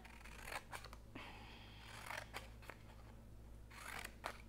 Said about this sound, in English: and then I cut slits in it